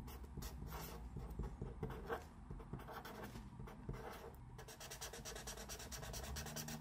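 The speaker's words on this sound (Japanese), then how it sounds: "従来品のプロバスウィンドウに関しては水性ペンのようにキュッキュッとなる感じで" Conventional Propus Window marker pen writing on paper, producing a continuous rubbing, squeaky scratch of repeated strokes, close and fairly loud with no talk.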